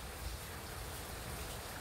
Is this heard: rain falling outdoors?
yes